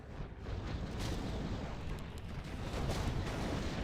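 Mortar Team artillery fire in a Warcraft III match, a dense continuous rumble of booming blasts and bursts layered over a busy battle mix, steady and loud throughout.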